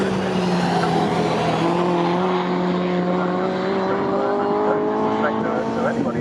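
Shelby Cobra race car on the Snetterton circuit during a CSCC classic race, its engine droning steadily and loud with rising pitch as it passes, a commentator talking over the roar throughout.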